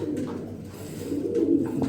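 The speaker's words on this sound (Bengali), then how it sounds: "ভিউয়ার্স এখানে দেখতে পাচ্ছেন একটা চমৎকার একটা মাদি কবুতর" A female racing pigeon coos in low, soft, continuous murmurs, close by, with a slight swell in loudness near the end and faint background noise at a pigeon loft.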